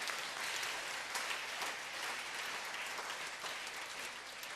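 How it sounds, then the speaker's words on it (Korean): A church congregation applauds together during a Korean worship sermon, a dense, steady wash of clapping that holds loud and even for several seconds with no voice on top. "우리 박수로 하나님께 영광 드리겠습니다."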